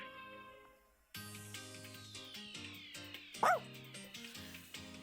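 Ohagi, a small dog in the video game Hime-sama Love Life!, gives a short yip at the door, heard once as a brief bright cry over steady game music.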